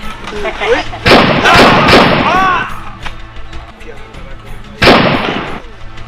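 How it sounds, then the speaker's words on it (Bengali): Gunshots in a Bengali drama fight scene, two loud close booming blasts with ringing tails, separated by a few seconds of tense background and raised voices. "শুট করে দে"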